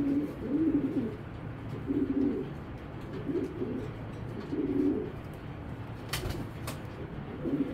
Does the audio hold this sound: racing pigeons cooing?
yes